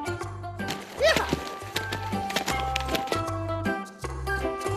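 A horse pulls a skier across snow at a ski joring event, with rhythmic hoofbeats and a brief whinny set against a sustained tonal background, fairly loud and close.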